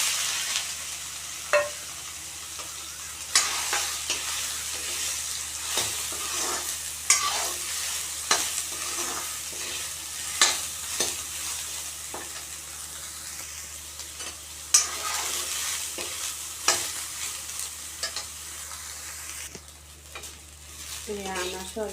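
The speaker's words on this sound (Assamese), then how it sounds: "এতিয়া ভাজি ল'ম এই সয়াবিনখিনি।" Soya chunks fry in hot oil in a pan, just after fried potatoes were taken out, giving a steady close sizzle broken by repeated scraping stirs of a spatula throughout.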